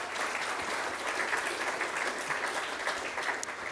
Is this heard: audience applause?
yes